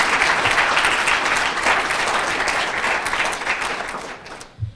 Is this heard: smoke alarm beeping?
no